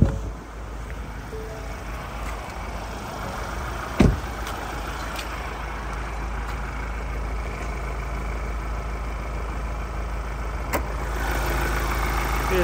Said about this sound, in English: we'll just pop this hood and have a look underneath while the car's running